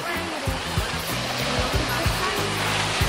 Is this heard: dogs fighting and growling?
no